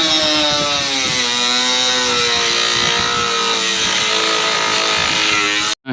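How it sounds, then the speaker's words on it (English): An angle grinder running without its guard while shaping a custom mould for a MotorGuide trolling motor outdoors. It gives a loud, steady, high whine that holds for about six seconds and then cuts off abruptly. "so now I'm just going to start this grinder up"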